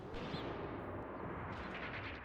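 Gunfire in the WW2 simulation game Mius Front, a dense continuous roar of distant battlefield shooting and artillery blending into a steady wash, with no voices.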